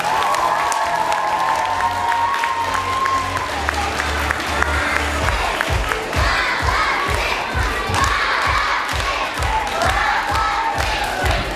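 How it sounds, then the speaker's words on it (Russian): Applause and cheering from a crowd at a dance competition award ceremony, starting with a few shouts and voices and then breaking into sustained rhythmic clapping that fills the hall. "А где аплодисменты?"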